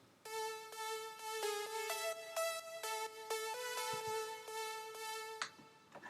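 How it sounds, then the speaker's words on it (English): Main synth lead patch in Logic Pro for a remix, playing a bright, buzzy melodic phrase of repeated staccato notes in a steady rhythm, alone and fairly close, ending on a sharp accent. "So what I have here is my main lead, which sounds kind of like this."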